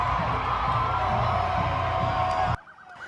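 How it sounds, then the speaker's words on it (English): A large crowd cheers and whoops along Main Street in downtown Columbia as the national champion women's basketball team rides past, a dense sustained roar that cuts off abruptly near the end. "Coach Dawn Staley and the national champion players rode down Main Street Sunday to a cheering crowd."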